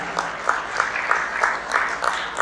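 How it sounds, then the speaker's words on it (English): Crowd applause at the national launch of the Tata INTRA compact truck, a continuous wash of many hands clapping with sharper individual claps popping through, steady and moderately loud. "Come on, let's hear a big round of applause."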